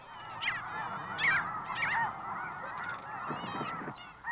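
Snow geese in a nesting colony honk continuously, with many overlapping calls mixed near and far, sustained throughout with no voices.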